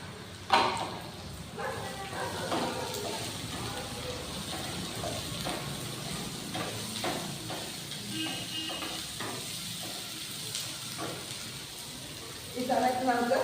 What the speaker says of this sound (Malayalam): ഇനി നമുക്ക് ഈ വെണ്ടയ്ക്ക ഇട്ടു.